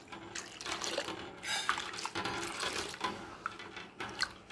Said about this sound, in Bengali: এবার মিশ্রণটা একটু ভালো করে নাড়িয়ে নিতে হবে।